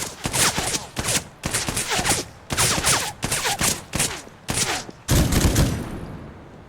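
Gunfire in the shooter game Dagger Directive: rapid bursts of loud, close shots in quick clusters separated by brief gaps, ending with a heavier blast and a fading tail.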